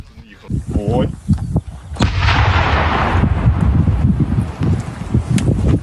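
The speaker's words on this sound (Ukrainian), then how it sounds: "Усі знайдені вибухонебезпечні предмети фахівці вивозять із села та підривають з урахуванням усіх правил безпеки" A controlled detonation of explosive ordnance during demining in Kharkiv Oblast: a sharp explosive blast rings out, followed by a sustained rumbling roar and crackling debris noise that lingers for several seconds.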